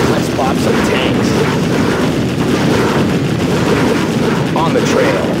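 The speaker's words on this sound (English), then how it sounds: "Let's bomb some tanks." Continuous rumbling bombardment and artillery explosions from the Command & Conquer Generals Zero Hour video game, loud and dense throughout with no pause.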